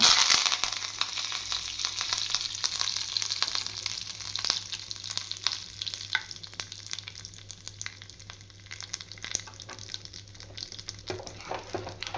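Steady crackling sizzle of mustard seeds and curry leaves frying in hot oil, close and moderately loud, with sharp pops scattered throughout and no talking.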